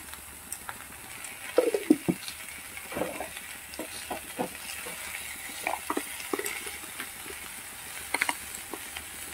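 Lote fish frying with garlic in a pan, giving a quiet sizzle with irregular clicks and scrapes of stirring, close and fairly soft, with no talking.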